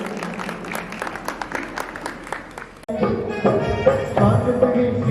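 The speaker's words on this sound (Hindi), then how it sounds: "तालियों से इनका स्वागत, हार्दिक अभिनंदन।" Applause greets a donor at a Jain religious gathering honouring a monk, a broad crowd of clapping that swells louder partway through and continues steadily, with a voice speaking over it.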